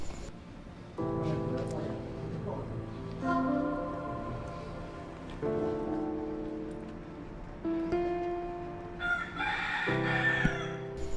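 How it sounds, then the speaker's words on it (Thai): A rooster crows repeatedly on a quiet morning at a forest temple in Umphang, Thailand, its long drawn-out calls rising and falling, with clucking fowl and other farmyard birds close by. "เรามาในช่วงเช้าบรรยากาศเงียบสงบได้ยินเสียงไก่ขัน"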